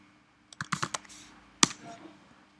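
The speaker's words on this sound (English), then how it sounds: "what I'm just going to do is type in Herodotus" Fingers type a short search on a computer keyboard, a quick cluster of close, crisp key clicks followed after a pause by one louder keystroke and a faint tap, in an otherwise quiet room.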